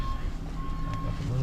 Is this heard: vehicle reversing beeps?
yes